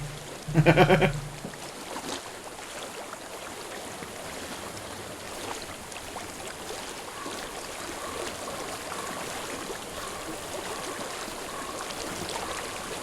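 Steady flowing water from a stream in Hellblade: Senua's Sacrifice, a continuous broadband rush after a short loud burst at the start.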